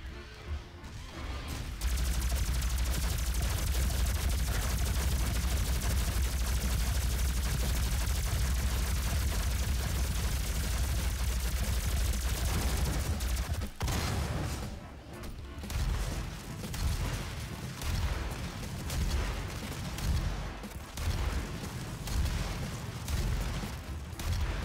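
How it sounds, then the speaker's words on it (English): A plasma gun fires in the video game Doom as a dense, loud barrage that runs for about twelve seconds, then gives way to rapid crackling shots and impacts of game combat. "I'm gonna prepare my plasma gun. I'm gonna unload all my plasma gun."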